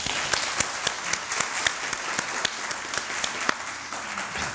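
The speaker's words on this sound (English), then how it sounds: "and then we'll give a round of applause" Banquet-hall audience at an awards dinner applauding, a brisk round of clapping with a few sharp individual claps standing out from the steady crowd patter.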